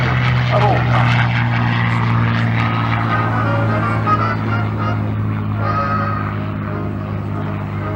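A P-51D Mustang propeller fighter flying at the Bournemouth Airshow, a loud, continuous droning engine roar that holds steady throughout beneath an announcer's commentary over the PA.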